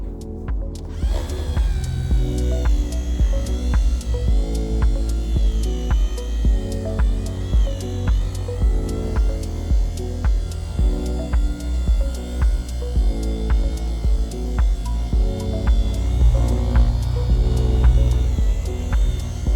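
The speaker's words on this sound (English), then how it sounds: "I'm gonna pull out the buffer and give it a polish up" A power buffer polishing a fiberglass boat hull whirs with a steady motor hum, pulsing rhythmically as the pad is worked back and forth across the surface.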